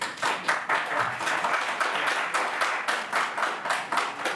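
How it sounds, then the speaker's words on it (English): Members of the public at an Allegheny County Council meeting clap steadily and moderately, a brief even round of applause with no talking over it. "To the public, while I appreciate the clapping"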